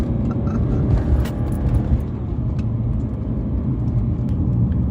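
A BMW M3 E90 engine roars steadily with a deep, rumbling tone, accompanied by wind and road noise, sounding like sustained acceleration from inside the cabin.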